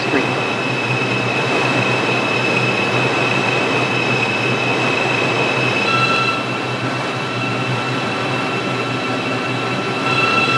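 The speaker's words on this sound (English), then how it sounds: "This is a 125th Street, 6th local train." A New York City 6 local subway train on the R142 or R62A line roars loudly and steadily along the track, with a constant rumble and high tonal whine throughout.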